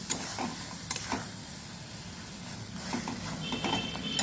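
Okra gravy masala sizzles in oil in a pan, a close, steady frying hiss broken by scraping, clicking strokes of a stirring spoon.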